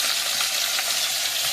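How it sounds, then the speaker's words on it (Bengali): Fish frying in hot oil in a pan, a dense close sizzle that crackles steadily and evenly throughout with no voices. "মাছগুলো অল্প অল্প করে ভেজে নেব।"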